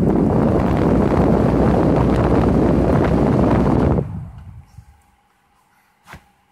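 An electric fan motor in a parts cooler built from an air-conditioner condenser gives a loud, steady rushing roar of moving air. It then cuts off abruptly, leaving near silence and one faint knock.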